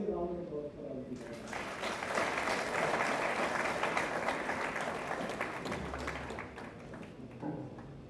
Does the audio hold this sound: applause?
yes